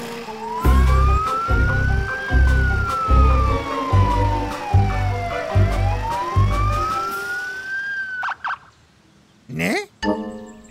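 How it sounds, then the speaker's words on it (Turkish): A cartoon police car siren wails, sweeping up and down in a steady loop over a thumping rhythmic beat, then cuts off and leaves a few brief chirpy sounds. "Morfa polis arabası seni hapse götürüyor."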